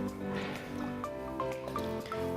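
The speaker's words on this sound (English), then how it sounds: "I'm going to sieve and remove all this water" Water from cooked African nightshade leaves drains through a sieve, close and fairly quiet, with scattered drips and small squishy splashes over a soft trickle.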